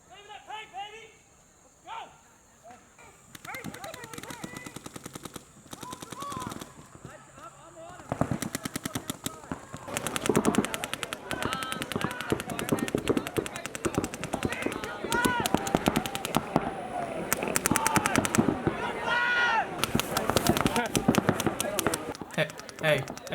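Paintball markers fire on a recreational paintball field in rapid, sustained bursts of sharp popping shots, some near and some farther off, with players shouting and talking throughout.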